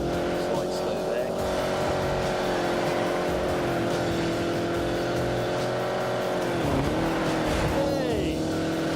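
A race car engine holds a steady full-throttle drone in The Grand Tour Game, its pitch dipping and recovering as it slides through a corner, loud and continuous with tire noise underneath.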